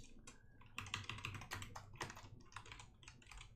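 Rapid keystrokes on a computer keyboard while someone writes Rust code, a steady close-up patter of clicks with no talking.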